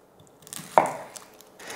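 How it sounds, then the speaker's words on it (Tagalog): A knife slices an onion in half on a cutting board, one sharp thunk of the blade landing against the board, close and fairly quiet, with light handling noise around it. "hinihiwa ko lang muna to sa gitna para mas madaling balatan"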